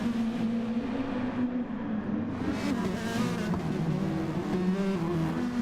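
Race cars lap the Fuji short circuit in a sportscar racing video game, a steady droning engine note with shifting pitch as cars run close together, holding continuously throughout.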